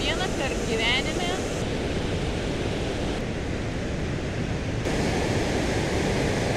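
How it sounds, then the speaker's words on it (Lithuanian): A powerful waterfall in Iceland thunders as a steady, loud broadband roar that fills the whole stretch without letup. "Galingas kriokliukas baisiai."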